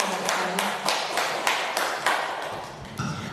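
Scattered audience clapping at a teacher training session, a small group applauding in loose uneven bursts, fairly close and moderately loud, with a few faint voices underneath.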